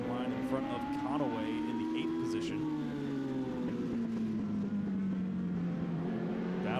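Race cars running on the EchoPark Speedway oval, a loud continuous engine drone with shifting pitch as the pack carries on off turn four and down the front straightaway, with an announcer's commentary layered over it.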